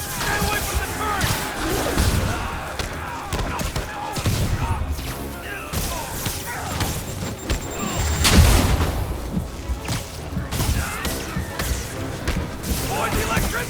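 Turret gunfire from a Marvel's Spider-Man Remastered boss fight rattles on through a dense mix of impacts, crashes and game voices, with a heavier booming burst near the middle.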